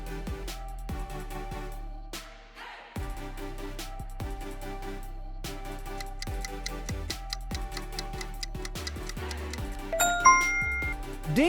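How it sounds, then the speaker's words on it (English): A doorbell chime in an animated quiz about choosing features for a dream house, with ringing tonal ding notes and ticking over a steady background bed, repeating throughout with no talk. "Pick the doorbell for your fantasy home."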